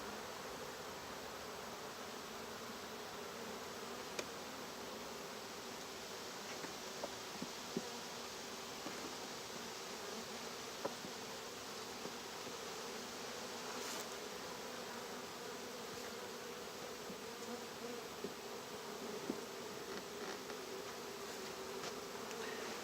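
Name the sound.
honeybees buzzing around an opened hive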